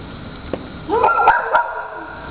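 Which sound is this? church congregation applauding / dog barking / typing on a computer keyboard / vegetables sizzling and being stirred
dog barking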